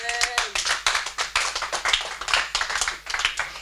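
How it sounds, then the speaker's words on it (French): A church congregation claps in rapid, uneven bursts of many hands, loud and close, filling the whole moment with steady rhythmic applause during worship. "Applaudissons pour la gloire de Dieu."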